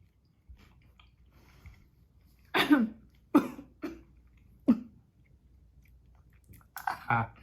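Person coughing a few times and chewing hot food, with sharp close coughs and throat sounds interspersed with quieter crunchy chewing in a quiet room, a brief vocal sound near the end.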